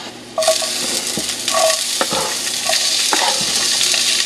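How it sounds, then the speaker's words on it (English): Garlic, diced onion and olive oil frying in a pan: a loud, constant sizzle with crackling, plus occasional scrapes and clicks of stirring against the pan. "so you want to fry up the garlic and olive oil and your half an onion that you diced up"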